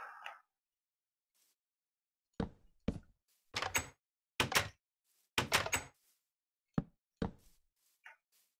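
A pressure-plate door opens and shuts in a game, heard as a scattered run of sharp knocks and thuds. The hits come in pairs and clusters with silent gaps between them.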